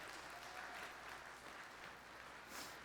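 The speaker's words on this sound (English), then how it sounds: "Guys, give these ladies a round of applause," An audience at a city State of the City address claps steadily for a few seconds, a soft, distant-sounding round of applause with faint voices mixed in.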